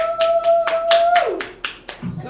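A short burst of about eight quick hand claps in steady rhythm, with a voice briefly heard under the first claps.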